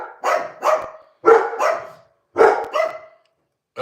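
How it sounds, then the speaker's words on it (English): Several dogs bark in a kitchen, giving three pairs of sharp, loud barks in quick double bursts with short silent gaps between the pairs and no talk over them. "Sorry, the dogs."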